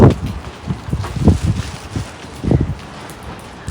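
Strong wind buffets the microphone in uneven gusts outdoors in rainy weather, with rumbling bursts and a steady rushing hiss between them.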